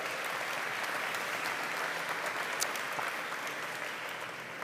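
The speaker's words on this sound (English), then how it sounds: "Round of applause for our questioner." Applause from a conference audience at a Brain Bar event, steady and even for the whole stretch, a dense wash of clapping heard at moderate distance with no one speaking over it.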